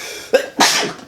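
A single close, sharp sneeze bursts out abruptly after a brief intake of breath, loud and alone with no talking over it.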